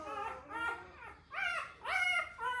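Newborn puppy whimpering and fussing during early neurological stimulation handling, a run of high, squeaky whines and yips in short bursts, close and fairly soft with no talk.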